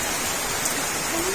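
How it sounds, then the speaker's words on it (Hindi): Heavy rain pours down in a steady, dense hiss that stays loud and even throughout the short stretch. "कितनी तेज बारिश हो रही है।"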